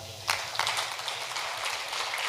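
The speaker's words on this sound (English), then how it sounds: "For spellers, a clap." A secondary school spelling bee audience claps for the spellers: a steady patter of many hands with a few sharper claps, moderately quiet and without talk.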